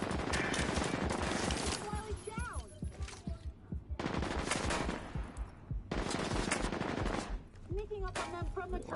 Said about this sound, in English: Where is this dude shooting at me?